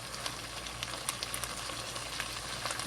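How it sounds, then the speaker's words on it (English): Food for a spaghetti dish sizzling in a pan as it cooks in its own juices, a continuous fine crackle and hiss, fairly faint and steady, with no one talking. "It's cooking in the juices."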